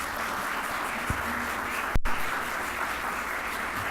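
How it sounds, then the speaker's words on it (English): Steady crowd applause for a mayoral candidate at a 2015 candidate forum, a dense continuous wash of clapping with a couple of sharper bumps midway. "Let's hear that round of applause for Alderman if you're ready"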